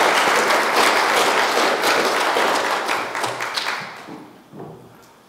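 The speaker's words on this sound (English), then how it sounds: "would you please give a warm welcome and round of applause for Brother Jack as he preaches for us" A church congregation gives dense, loud applause welcoming a preacher, sustained for several seconds before thinning out and fading to a few last claps.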